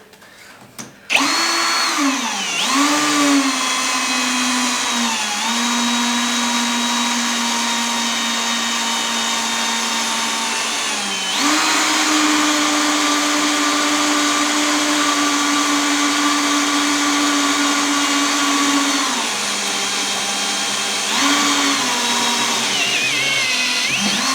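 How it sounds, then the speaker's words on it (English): A power drill whines steadily for long stretches while drilling race car nerf bars, its pitch dipping and rising as the trigger eases and presses, loud and close with no talking. "So that's how you drill a Nerf bar, drill some Nerf bars"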